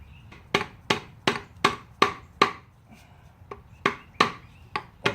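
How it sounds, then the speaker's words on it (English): A soft mallet knocks bearings out of a Jerico Revision 4 gearbox during disassembly: about a dozen sharp, close thuds in an even rhythm, with a short pause partway through. "All the bearings coming out, so just keep hitting that. This is a soft mallet."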